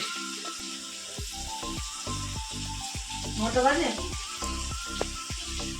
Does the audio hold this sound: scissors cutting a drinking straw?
no